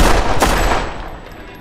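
A single loud warning gunshot fired upward in a bar, with a sharp crack and a long echoing decay that slowly fades away.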